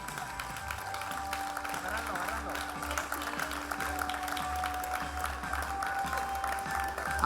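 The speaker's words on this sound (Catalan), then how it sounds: "I se fort aplaudiment per a ell" Spectators at the Pujada al Castell de Xàtiva uphill race applaud a runner, a fairly faint, continuous patter of clapping over a steady tonal hum.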